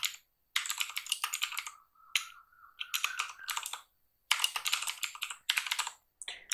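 Bursts of rapid keyboard typing as code is entered, clicking in quick irregular runs separated by short pauses, close and moderately loud with no voices.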